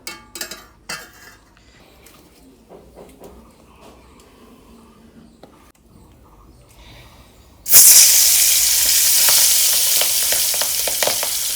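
Marinated tengra fish hitting hot oil, starting with scattered clinks of a pan and utensils, then a sudden loud, dense, steady sizzle that stays strong to the end.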